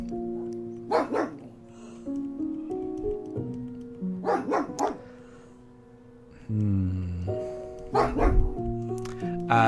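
A neighbourhood dog barks in short bursts of several yips and woofs, separated by pauses, fairly close, with faint background tones.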